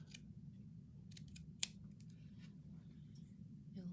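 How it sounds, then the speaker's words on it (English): Scissors trim the edge of a handmade journal cover, a handful of quiet crisp snips and clicks with one sharper cut, close and soft against a low background hum. "I'm gonna trim this off just a little bit."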